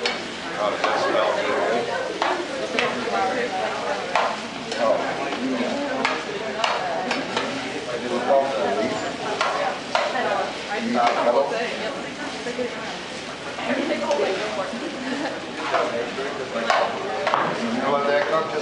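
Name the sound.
plant stir fry sizzling in a hot pan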